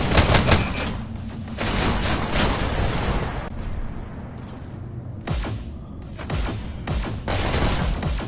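Shotgun blasts ring out in a VR shooter, several loud, close bangs clustered in bursts with short gaps and a reverberant tail between them.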